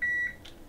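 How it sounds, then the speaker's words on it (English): A short, high electronic beep sounds once at close range, followed by a faint second tone, with no voices. "pay no attention to the beeps"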